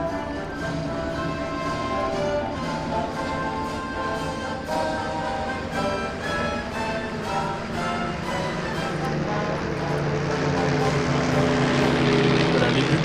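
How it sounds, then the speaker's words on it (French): A small propeller aircraft comes in to land at the La Ferté-Alais airshow, giving a steady, continuous engine drone throughout that swells slightly toward the end. "Sont à l'atterrissage tandis que la patrouille de Stamp nous survole"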